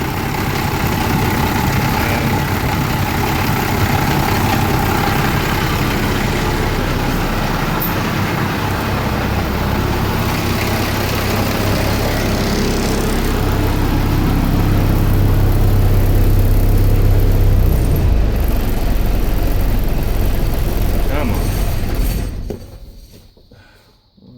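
A large feed truck engine rumbles steadily at close range for a long stretch, then cuts off abruptly near the end.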